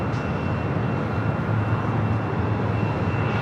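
Air New Zealand Boeing 777 towed at LAX airport, heard as a loud, steady broadband roar with a low hum and a faint whine, constant throughout and without speech.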